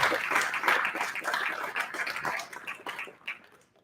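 An audience at a quiz competition final claps in a dense patter of applause that thins out and fades toward the end.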